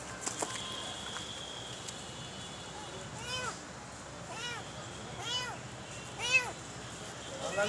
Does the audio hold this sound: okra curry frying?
no